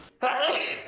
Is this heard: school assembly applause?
no